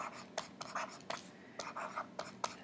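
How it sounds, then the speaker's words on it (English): Handwriting while drawing anaphase of cell division in a mitosis lesson, heard as a series of close, quick scratchy strokes in short bursts with brief pauses between them. "We're going to write"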